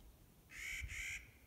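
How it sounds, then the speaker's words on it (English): A single bird call in the Sierra Nevada, briefly split into two close parts, rings out clearly over quiet ambient background. "There's a bird."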